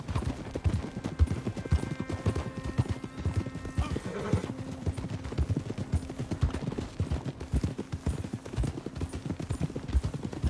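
Steady clip-clopping of a horse's hooves in Red Dead Redemption 2 carries on close and even for the whole stretch, set against low game music with a faint neigh midway.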